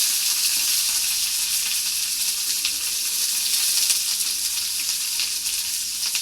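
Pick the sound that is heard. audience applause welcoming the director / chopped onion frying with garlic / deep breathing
chopped onion frying with garlic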